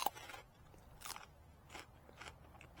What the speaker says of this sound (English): if you eat sugar snap peas, you'll be familiar with this sound